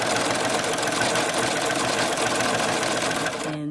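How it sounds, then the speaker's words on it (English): A serger overlocks fabric with a steady, fast, close-up mechanical whir that holds at one level and then stops abruptly at the end. "So I'm just helping her to serge"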